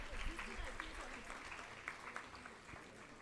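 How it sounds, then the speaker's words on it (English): An audience claps at a national award ceremony honouring UPSC rank holders, giving a sustained moderate round of applause that fades slightly, with someone speaking over it. "A big round of applause."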